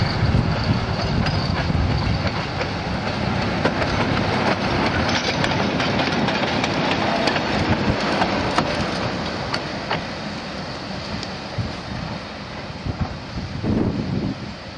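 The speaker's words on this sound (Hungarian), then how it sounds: "Itt a szokásos tolatgatásokat látjuk, amikor a szerelvényeket és a mozdonyokat addig sakkozzák" Narrow-gauge railway train shunting at Herminatanya junction near Nyíregyháza, with steady rolling rumble, wheel clatter and scattered metallic clanks throughout, loud and close, easing slightly before a final swell.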